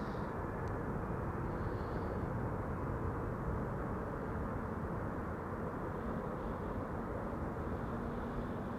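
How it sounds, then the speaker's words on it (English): A Qatar cargo plane arriving from Doha onto runway 36 right at Amsterdam Schiphol gives a steady, fairly distant broadband roar that holds evenly throughout with no voices. "Here is Qatar cargo arriving from Doha,"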